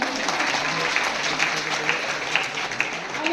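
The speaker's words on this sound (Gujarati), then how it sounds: "અમારા ગુરુને તાળી ફાળી જોઈએ" Audience applause for a guru at a stage event: a steady, moderately loud wash of clapping that continues throughout, with a faint low tonal murmur beneath.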